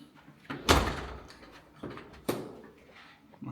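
A hotel room door closing in Munich, two heavy thuds a couple of seconds apart with a softer knock at the end, close by and without speech.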